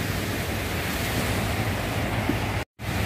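Ocean surf rolling in steadily at Holtekamp beach in Jayapura, a continuous broadband wash of waves with wind buffeting the microphone, alone with no talk and a brief dropout near the end.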